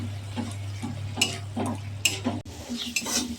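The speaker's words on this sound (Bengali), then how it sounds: "ভালো করে কষিয়ে নিচ্ছি।" Spice masala being stirred and fried in a pan with a little water, with tomato going in, giving repeated scraping stir strokes over a steady sizzle, close and fairly loud with no talking.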